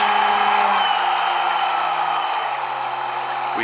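Arde Barinco laboratory homogenizing mixer for aqueous and oil-based emulsions running steadily at 12,000 RPM, a loud continuous motor whine with constant tone throughout, no talking.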